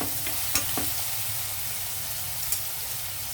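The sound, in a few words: ginger garlic paste frying in pan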